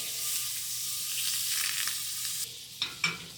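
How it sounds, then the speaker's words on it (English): About a tablespoon of butter melts in a pan on the stove for a sauce, a soft steady sizzle that suddenly drops away, followed by a few clinking taps. "first you want to melt about a tablespoon of butter"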